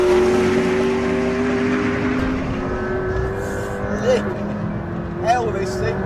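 McLaren P1 supercar in its most aggressive setting, driven hard around Castle Combe race circuit, its engine droning loud and steady with rising pitch sweeps as it revs, under a voice speaking.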